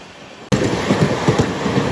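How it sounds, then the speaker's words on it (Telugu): A Mysore–Kakinada express train roars past at close range in India, a loud steady rumble of wheels and carriages that starts abruptly and continues with rhythmic rail clatter. "ఇదిగోండి మైసూర్ బండి, మైసూర్ కాకినాడ బండి."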